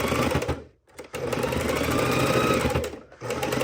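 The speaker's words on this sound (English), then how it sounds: "I'm going to sew right over that V, locking in my stitch" Close-up sewing machine stitching over a V seam on a fabric bowl cozy: a loud rapid mechanical whir in two steady bursts, split by a brief pause and ending in another short stop.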